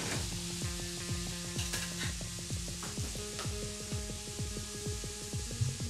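A spoon stirs chopped tomatoes and salt in a pan over a steady sizzle, with regular repeated strokes and a droning hum underneath, moderately loud and alone.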